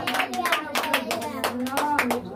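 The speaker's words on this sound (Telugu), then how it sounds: "చప్పట్లు కూడా దేవుడికి స్తోత్రం చెప్పాడు." A congregation at a praise and worship service claps in steady rhythm, many hands beating a brisk, regular pulse with voices underneath.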